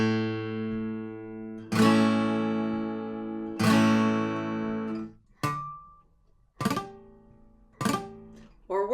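Acoustic guitar strummed slowly with sloppy, hurried chord changes, each chord ringing out loudly before a rough switch, then several shorter, choppier strums toward the end.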